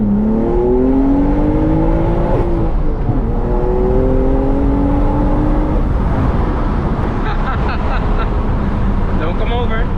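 A manual BMW M3 on the move pulls through the gears, its engine tone rising in strong sweeps, dropping at each shift and then climbing again. Road and cabin noise sit underneath, and a voice speaks briefly near the end.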